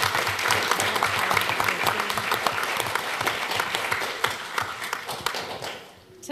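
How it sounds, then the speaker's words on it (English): School board meeting audience applauding a fifth grade math teacher, dense sustained clapping from a large indoor crowd that fades out near the end, with some voices mixed in. "Give her a round of applause."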